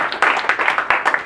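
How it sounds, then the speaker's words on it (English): A small group in a studio claps briefly after a presentation, a handful of distinct, fairly close hand claps in quick succession. "Big applause for you."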